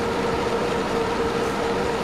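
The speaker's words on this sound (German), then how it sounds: "Da hinten kommt auch ein Zug." Rumbling rail noise of a train passing in Transport Fever 2, a steady, continuous roll with a faint tonal whine on top, moderately loud and uninterrupted for the whole stretch.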